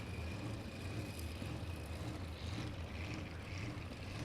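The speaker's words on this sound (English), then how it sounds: "And that throbbing you're hearing, the whoop, whoop, whoop, that is the big Ford." Big Ford engine of a racing sprint boat, a steady, fairly distant low rumble with a throbbing pulse running through it.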